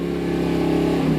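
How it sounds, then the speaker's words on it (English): A Dodge Hellcat's supercharged engine revs steadily, a loud, sustained, droning engine note held at high RPM with no voices over it. "sitting in the Dodge Hellcat and revving up the engine"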